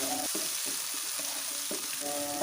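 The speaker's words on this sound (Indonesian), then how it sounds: "Kemudian aduk-aduk hingga semua bumbu tercampur merata." Spices being stirred and fried in a pan, with a steady close sizzle and brief scraping strokes of stirring recurring through the stretch, no voices.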